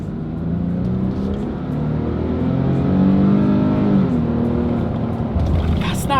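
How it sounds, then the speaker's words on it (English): A 2026 Nissan Frontier PRO-4X truck with a naturally aspirated engine accelerates hard from a launch, its engine note climbing and holding strong, heard from inside the cab. "Let's put the Frontier here to the test and let's see how quickly we can get this one here up to speed."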